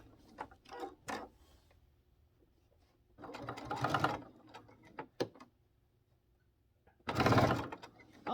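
A sewing machine stitches fabric for an egg-gathering apron in short whirring bursts separated by quiet pauses, with one longer run and a final burst near the end.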